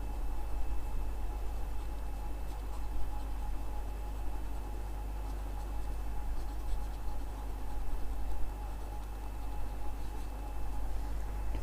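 Pen or marker writing out a definition during a live Class 9 chemistry lesson on atoms and molecules; a steady, faint scratching runs throughout under a constant low hum, with no talking.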